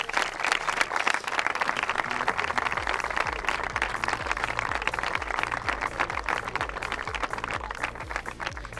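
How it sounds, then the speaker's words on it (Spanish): A crowd at a sports tribute event claps in a sustained round of applause, steady and fairly distant, with a low musical rhythm pulsing underneath throughout. "Un aplauso grande para ellos."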